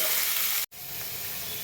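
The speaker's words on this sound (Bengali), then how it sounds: "আলুর সাথে একটু ভেজে নেব" Figs and potatoes frying in a pan give a steady close sizzle with a brief cut-out partway through, no voices present.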